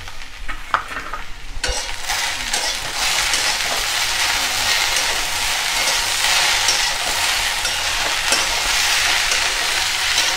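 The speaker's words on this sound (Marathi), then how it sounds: "आपण आता यामध्ये मीठ टाकूया आणि व्यवस्थित मिक्स करून घेऊ।" Okra (bhindi) sizzles loudly in a pan as salt goes in and it is stirred, a steady dense frying hiss running throughout with a few scraping stirs near the start.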